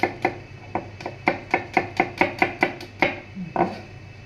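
A knife chops garlic finely on a cutting board, about a dozen crisp, evenly spaced knocks at a steady rhythm with a short pause near the end, close and clear with no talking.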